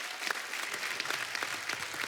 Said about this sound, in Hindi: तालियां बहुत हैं